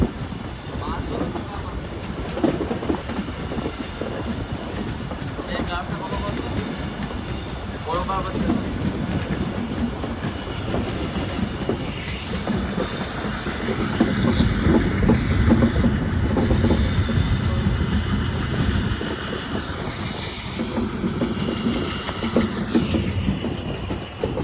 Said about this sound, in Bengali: দেখেন ট্রেন কার্ভ নিচ্ছে।